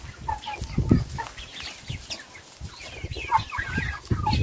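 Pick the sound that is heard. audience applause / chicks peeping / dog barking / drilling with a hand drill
chicks peeping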